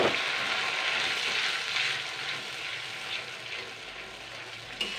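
Ginger and turmeric paste sizzles steadily in a pan as rice paste and rinse water are added, a continuous loud hissing fry with no talking.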